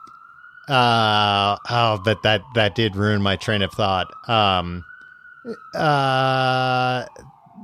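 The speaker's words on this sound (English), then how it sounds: "Sorry that there's an ambulance driving up to get me right now." A passing ambulance siren wails steadily in the background, faint and continuous beneath a person talking close and loud over it.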